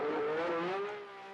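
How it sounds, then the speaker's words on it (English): A 1975 Formula 1 race car heads out to the grid with a single high, buzzing engine note that rises in pitch, then fades as it moves away. "As the cars went out to the grid"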